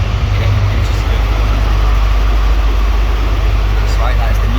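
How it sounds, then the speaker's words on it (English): Network Rail's yellow New Measurement Train rumbles past, a loud continuous low roar with steady rail noise throughout and faint higher whines and clatter on top. "That's right, that is the new measurement train."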